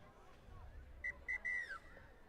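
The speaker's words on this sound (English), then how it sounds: "As you hear, the whistle has been blown." A referee's whistle ends a women's rugby league tournament game, three short shrill blasts, the last one longest, sounding out over distant crowd noise and field hubbub.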